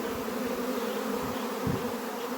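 A dense, steady buzzing of a honeybee swarm entering a hive fills the whole stretch, close and continuous, with a low droning hum underneath.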